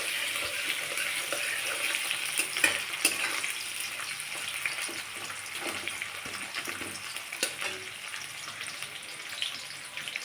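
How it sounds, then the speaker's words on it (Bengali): Grated carrot and coconut sizzle and fry in a pan for khichuri, with steady crackling and intermittent scraping stirs, close and alone without talk. "গাজরটা একটুখানি ভাজা হয়ে গেলে এর মধ্যে নারকেলটা অ্যাড করে দিলাম।"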